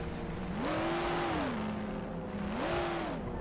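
Car engine in the video game Mafia revving twice, each rise in pitch swelling then settling back to idle, fairly quiet and steady beneath no talk.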